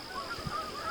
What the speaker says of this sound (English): Way up there we have geese.